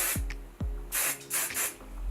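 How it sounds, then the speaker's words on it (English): Hairspray is sprayed onto hair in several short hissing bursts, close and fairly loud, with brief pauses and a couple of soft clicks between sprays. "So obviously I'm gonna use some hairspray, and I spray my hair to give it some texture."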